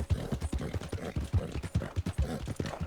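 Rhythmic hoofbeats of a horse running in Red Dead Redemption, a fast regular clip-clop pattern close and clear with no voices over it.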